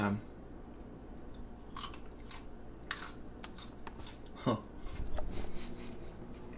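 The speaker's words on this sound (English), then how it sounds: "So I'm gonna be munching on a salad." Someone eats a salad by hand, with soft irregular crunching and chewing bites up close, fairly quiet against a faint room hum, a few sharper crisp bites standing out.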